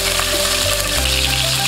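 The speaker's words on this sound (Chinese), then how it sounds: "油热下入肉末，把肉末炒干水分" Minced meat sizzles loudly in hot cooking oil in a wok, a dense, continuous crackling fry heard up close.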